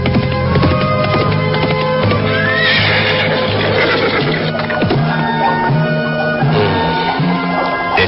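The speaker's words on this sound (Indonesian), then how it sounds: "Kemudian mereka berkuda menyusuri daerah perbukitan di kaki Gunung Anjasmara." Horses being ridden through hill country at the foot of a mountain, with repeated loud neighs and whinnies over a dense, continuous soundtrack of music and movement.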